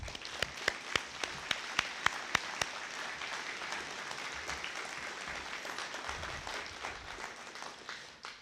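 Applause from family and friends at a police academy graduation ceremony, beginning with a few loud, spaced individual claps before a crowd fills in with steady, moderately distant clapping that tapers off at the end.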